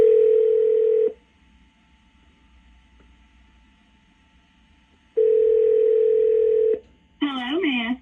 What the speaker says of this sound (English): I'm going to call her right now